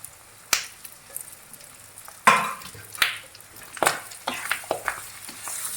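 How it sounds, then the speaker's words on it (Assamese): Pork gravy with potatoes and onions is stirred and fried in a pan, soft sizzling broken by sharp, irregular clacks and scrapes of a utensil against the pot, close and fairly loud. "এতিয়া ভালদৰে মিক্স কৰি 10 মিনিটমানৰ কাৰণে আমি এইটো ফ্ৰাই কৰিম।"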